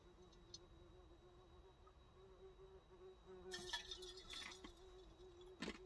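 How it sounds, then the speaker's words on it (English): A bee buzzes faintly around a kitchen during mushroom cooking, a thin steady drone hovering under a continuous low hum, with a few clinks and clatters of utensils near the end. "There's a bee in here."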